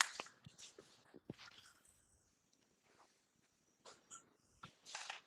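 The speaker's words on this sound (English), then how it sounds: "my dog's being a pain in the dick" A dog moving around close to the microphone, with scattered snorts, sniffs and soft shuffling in irregular bursts and quiet pauses between them.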